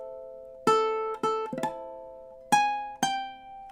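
Ukulele picks a short measure of a Star Wars march, a handful of clear plucked notes in an uneven rhythm with short gaps between them, close and fairly soft.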